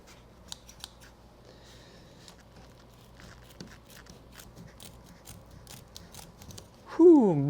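Scissors cut through a kayak seat strap with a few short, crisp snips near the start over a quiet background, and a voice lets out a loud exclamation at the very end.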